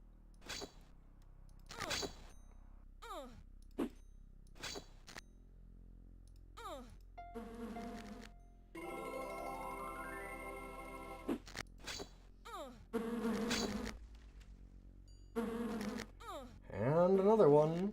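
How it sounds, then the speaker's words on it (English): Buzzing bees in the DOS video game Lands of Lore come as repeated short bursts of insect drone with brief swells, separated by quiet gaps, ending in a louder, longer buzz. "There's always more bees."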